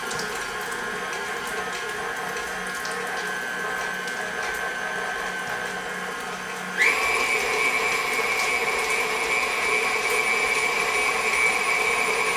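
An electric mixer creams butter for a maple pound cake with a steady motor whine that jumps to a higher, louder speed partway through and then holds, with no talking.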